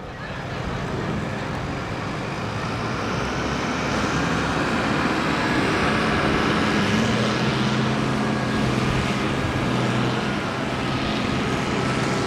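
An Oliver tractor engine roars steadily and loudly at a tractor pull in Langford, New York, a continuous heavy drone lasting the whole stretch.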